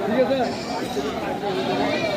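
At a busy weekly livestock market in Bangladesh ahead of Eid, local castrated meat goats bleat now and then beneath near, continuous talk and general crowd chatter.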